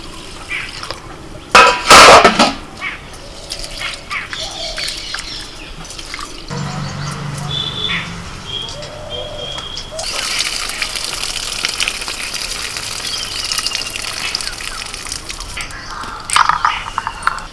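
Rice being washed and soaked in water, heard close up as a loud gush of pouring water followed by steady swishing, dripping and splashing from the wet grains, with no talking.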